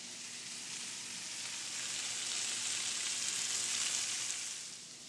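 Shallots fry in butter with salt and pepper, a soft continuous sizzle and hiss that builds gently and holds steady, with faint stirring underneath and no voices.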